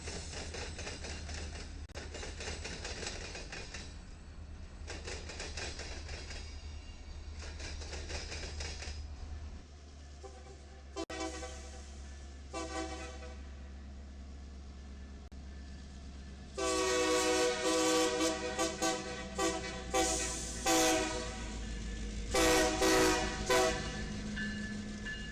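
A BNSF local freight train rolls past at Bear Junction in Houston, Texas, heading back to Basin Yard, with rhythmic clattering of wheels over rail joints, a rumbling locomotive and a loud horn blast in the later half.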